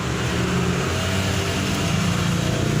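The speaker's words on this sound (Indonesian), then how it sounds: "aduh suara sepeda motor" A motorcycle engine drones loudly and steadily nearby as it passes, a continuous mid-pitched rumble filling the whole moment with no voices over it.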